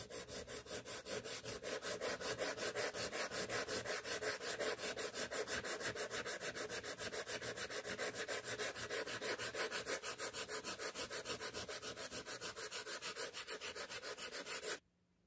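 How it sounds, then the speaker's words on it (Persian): Fine 1000-grit sandpaper rubbing over the copper face of an etched circuit board for a homemade pinpoint metal detector: a steady, loud, close scratchy sanding with fast even back-and-forth strokes, continuous for about fifteen seconds, then stopping abruptly. "و بعد روی مس رو با سنباده 1000 دوباره سنباده میزنم."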